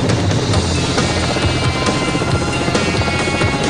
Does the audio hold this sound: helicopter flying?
yes